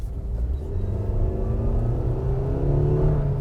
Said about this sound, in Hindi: जो इसका इंजन का नॉइज़ है इवन एट हाई RPM